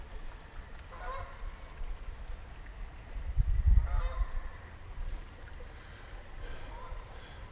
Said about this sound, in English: Canadian geese.